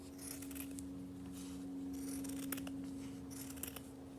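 Scissors cutting felt to shape a felt rose, with soft, close snips and crisp blade slides in a few short clusters over a steady low hum.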